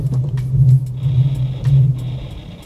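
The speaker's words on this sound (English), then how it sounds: "So watch me trying to start it up." An Infiniti Q50 car is cranked with its kill switch on, so the engine never catches. A steady low starter whir repeats in short bursts, close and fairly loud, with a thin high tone joining partway through.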